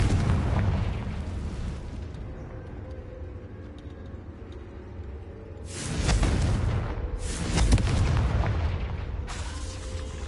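Confringo fire-spell blasts go off in the Hogwarts Legacy video game, a rumbling ongoing game soundscape punctuated by two or three loud, booming explosive bursts.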